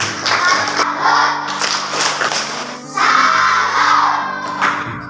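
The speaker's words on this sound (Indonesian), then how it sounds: "Tepuk salam untuk dia." Schoolchildren in a multigrade classroom do a rhythmic greeting clap together, a loud group of claps and chanting voices in bursts, pausing briefly midway before starting again.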